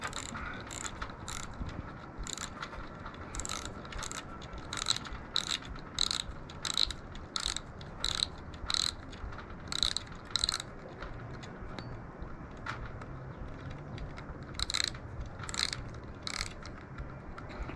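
The drag knob of a spinning fishing reel is unscrewed, giving bursts of quick, faint, close ratcheting clicks in irregular runs over a low background hiss.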